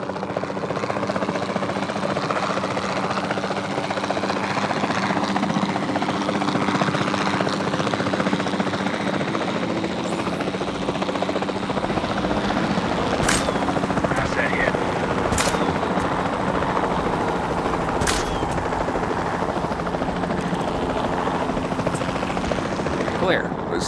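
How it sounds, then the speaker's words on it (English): Capture team helicopter from the video game Jurassic World Evolution 2, its steady rotor and engine drone running continuously and loudly, with a few sharp clicks or shots breaking in near the end. "Then the sensible thing is to take a capture team helicopter."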